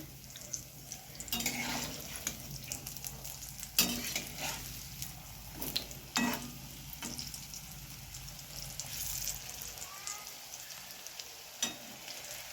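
Steady sizzling of raw banana koftas frying in oil, with intermittent scraping and clatter of a utensil against the pan throughout.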